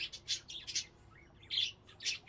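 Birds in a pet shop simulator game chirp and tweet in short bright bursts, several quick calls clustered near the start and two more toward the end, fairly quiet and with no talking.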